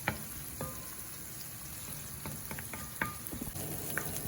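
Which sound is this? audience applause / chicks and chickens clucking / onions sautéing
onions sautéing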